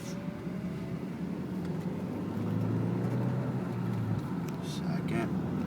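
An Audi A4 1.8T with a misfire pulls away from a stop, its engine a steady, loud low drone that rises in pitch as it accelerates, with a faint voice in the background.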